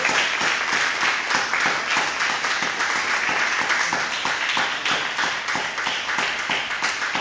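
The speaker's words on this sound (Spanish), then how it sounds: "Un aplauso al Señor." A church congregation gives sustained applause during a sermon, a steady, loud, rhythmic clapping from many hands, some in unison, continuing throughout with little else audible.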